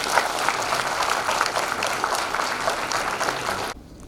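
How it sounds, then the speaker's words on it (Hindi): An audience at a felicitation ceremony gives steady, full applause for nearly four seconds before it cuts off abruptly. "जोरदार तालियां"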